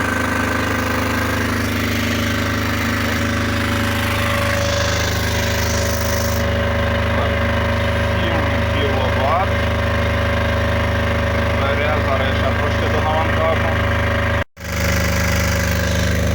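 KRAFTWELE 9.5 kW diesel generator running under load, a steady loud engine drone with a continuous hum and mechanical rattle throughout, close by, with faint talk in the background.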